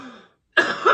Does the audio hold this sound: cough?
yes